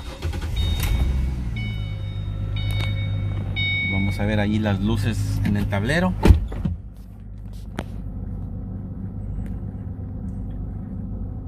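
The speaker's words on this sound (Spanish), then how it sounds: "Encendemos el auto." A car engine turns over with a sharp burst partway through, then settles into a low, steady running rumble. Someone talks over the first half, before the engine starts.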